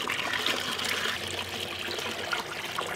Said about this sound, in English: I'm gonna scoop a little bit of water from this pond, throw it in here really quick